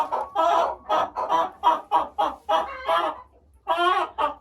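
Hens cluck close by in a quick run of short, throaty calls, about a dozen bursts in a bouncing rhythm with one brief pause near the end.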